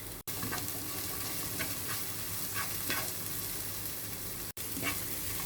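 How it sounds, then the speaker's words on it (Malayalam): Onions sautéing with added salt in a pan for tomato chutney, a steady close sizzle and frying hiss with occasional spatula stirring scrapes, continuous with no voices. "നമ്മൾ ആ വഴറ്റിക്കൊണ്ടിരുന്ന സബോളയിലോട്ട് കുറച്ച് ഉപ്പിട്ട് കൊടുക്കുകയാണ്"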